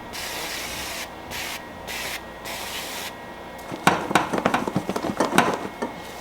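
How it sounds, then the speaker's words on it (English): Hissing bursts from an avocado oil aerosol cooking spray, a steady hiss at first, then a rapid series of short sprays close by. "I still find that I need to spray them. I use the avocado oil spray."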